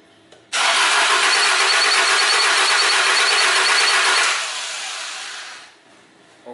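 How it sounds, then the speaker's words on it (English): A car engine cranks and catches after a brief pause, roaring loudly and close for several seconds before settling to a lower, steadier idle as the sound tapers off. "next I go to start my car's engine"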